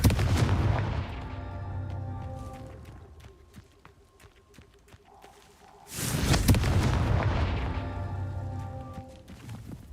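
Confringo fire spell blasts from the Hogwarts Legacy video game: loud booming explosions opening the clip, fading, then another big burst near the middle that rolls out to a slow decay, set against game music.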